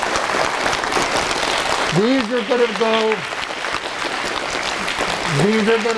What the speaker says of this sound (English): Boys and girls, let's give them a round of applause